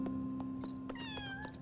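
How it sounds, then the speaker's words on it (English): A cat meows in a video game, a few drawn-out, wavering cries over a steady hum and ambient game sounds, fairly clear and close, with no talking. "Meow."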